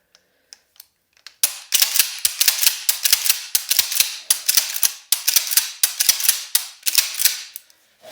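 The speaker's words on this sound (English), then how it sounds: "Just a few dry fires." Browning BPS pump-action shotgun dry fired repeatedly: sharp metallic clicks and clacks of the action cycling and hammer falling, a rapid series of close, loud mechanical snaps after a few sparse clicks, with no talk.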